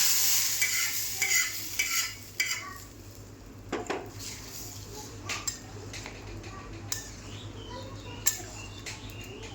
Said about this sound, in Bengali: এবার ফোড়নটা ঢেলে দেবো।